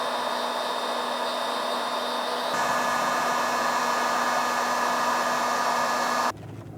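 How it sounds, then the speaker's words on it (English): A heat gun blows steadily while shrinking heat shrink tubing on trailer wiring, a loud close whooshing roar with a constant whine that steps up partway through, then cuts down to a quieter hiss at the end. "Something oddly satisfying about heat shrink."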